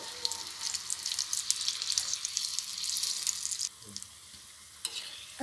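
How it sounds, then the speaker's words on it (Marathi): Sweet corn fritters (bhaji) deep-frying in hot oil give a steady, loud, crackling sizzle that drops to a quieter bubbling partway through, with no talking. "आता ही भजी आपण दोन्ही साईडने गोल्डन ब्राऊन होईपर्यंत तळून घेऊया."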